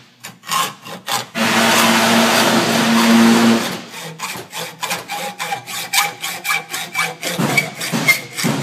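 A hacksaw cuts metal held in a vise, first a sustained grinding stroke, then a quick rhythmic series of close, loud back-and-forth rasping strokes.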